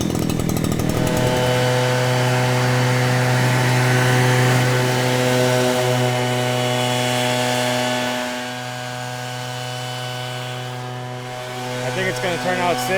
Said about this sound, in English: I got a nice leaf blower that just crushes the trails. Thing is 85 cc's, a pure frickin' 2-stroke power,